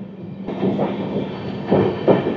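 The Hirakhand Express passenger train pulls out of Koraput Road station and gathers pace, a close steady rumble with rhythmic wheel thumps and rattling carriages heard from on board.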